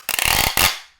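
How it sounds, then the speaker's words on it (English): A loud, harsh tape gun screech from an H-150 tape dispenser as tape is pulled across a box, a grinding rasp that cuts off and fades quickly. "somebody decides to package up a box using a tape gun that sounds like this"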